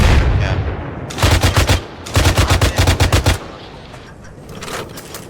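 Machine gun fire in ARMA 3: two loud, rapid bursts of about eight to ten rounds each, close and punchy, followed by quieter distant shots fading in the background.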